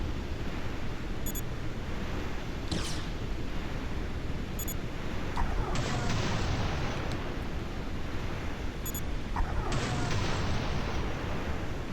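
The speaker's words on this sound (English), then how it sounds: "So what happens if I shoot the mine?" A mine is shot in Beyond Good & Evil 20th Anniversary Edition, giving a few sharp blasts and bursts over a constant hissing, rumbling game soundscape, with no talking.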